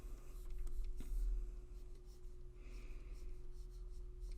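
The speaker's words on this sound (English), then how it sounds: "then you draw another square" A pen scratches across paper while drawing a square, a close, quiet scraping with soft strokes over a steady low hum, no talking.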